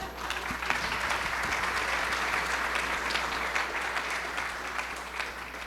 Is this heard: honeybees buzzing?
no